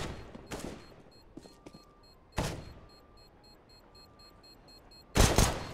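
Counter-Strike match on the map Train: sharp rifle shots crack out in separate bursts, a couple of quick closely spaced reports then single loud blasts, with faint in-game ambience between them and no talk.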